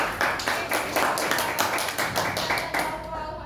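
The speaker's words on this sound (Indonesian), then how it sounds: "Kita beri aplaus ini." A classroom audience claps together in a quick, dense burst of applause that holds steady for a few seconds before thinning out at the end.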